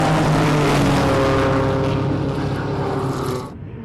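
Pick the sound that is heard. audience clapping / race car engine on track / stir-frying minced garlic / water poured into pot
race car engine on track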